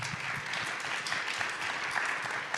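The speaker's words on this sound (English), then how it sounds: "Can we get a round of applause for the panelists up here?" Audience applause for a panel at a Western Governors' Association session, an even, moderately loud patter of clapping from a conference crowd lasting a couple of seconds.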